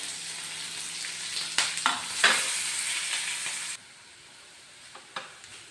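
Ginger, green chili and curry leaves hit hot oil in a pan for a protein-rich breakfast, giving a steady close sizzle with a few stirring scrapes and clicks before the frying drops to a quieter hiss.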